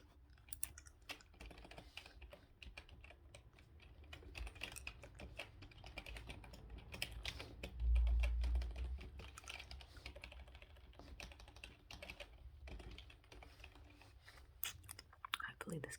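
Keyboard typing and mouse clicks on a laptop, close and soft, a steady patter of light taps running throughout with a few slightly louder moments.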